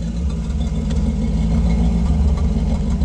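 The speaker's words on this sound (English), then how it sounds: "You can also hear the exhaust." A 1932 Ford street rod with a modified, non-stock V8 and 700R4 transmission idles, its exhaust giving a steady, close, low rumble that holds even throughout with no revving.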